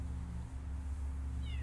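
A cat meows in the video game Copycat, one short cry standing out over a steady low hum of game ambience, with no talking.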